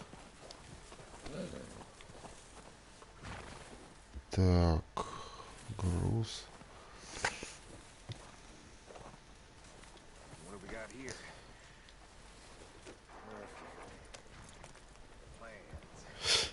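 Horse hooves clip-clop a few times on a Red Dead Redemption 2 game soundtrack, with someone talking over them and a couple of loud bursts in between.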